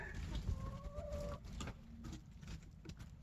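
Chickens on a farm cluck and chirp nearby over a low rumbling background, with a few short squeaky calls early on; no one speaks.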